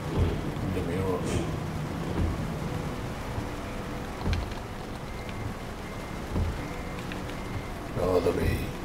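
Steady rain in Euro Truck Simulator 2 hisses as a continuous wash through the whole stretch while a truck parks a trailer in a downpour, with low engine rumble beneath and a few brief louder bumps.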